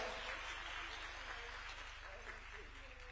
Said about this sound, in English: We can keep clapping for her